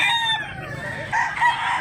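A gamefowl rooster on a farm crows once nearby, a loud, clear, harmonic call with rising and falling pitch, and a brief second burst near the end.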